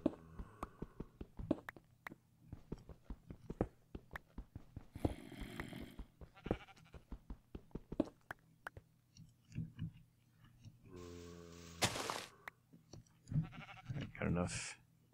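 Sheep bleat a few times in Minecraft with the Tekkit Lite modpack, mixed among rapid rhythmic block-breaking clicks and game sound effects, with a player talking over parts of it.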